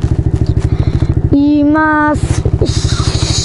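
A Kayo 110 quad ATV engine putters close by in a fast, even pulse. A voice briefly speaks over it midway before the chugging carries on alone.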